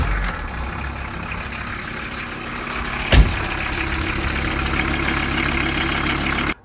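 A VW T4 van's five-cylinder AAB diesel engine, running on four of five working glow plugs, idles steadily after a cold start with a loud low clattering drone and one brief knock partway through.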